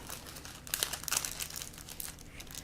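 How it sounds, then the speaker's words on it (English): Parchment paper folded and wrapped around a salmon fillet, crinkling softly and close in quick, irregular rustles with no talk over it. "And you're going to keep folding and wrapping."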